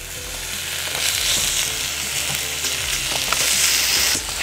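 Kimchi sizzles and fries in a hot pan, a steady dense crackle with occasional stirring scrapes, loud and close, no talk over it.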